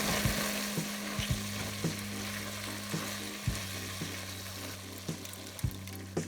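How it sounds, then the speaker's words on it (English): Roasted chili peppers go into sizzling turkey chili, raising a steady fry over a low hum, with soft intermittent taps and stirring knocks scattered throughout. "Now let's add the roasted chili peppers."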